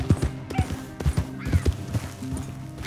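Horse hooves clip-clopping in Red Dead Redemption 2, a steady walking rhythm of close, soft thuds with a brief whinny-like tone, under quiet game ambience.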